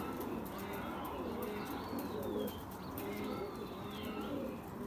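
Pigeons kept by a fancier coo softly in a loft while wings flap as some take flight, a steady low murmur of birds with occasional faint whistling sweeps and light chirps.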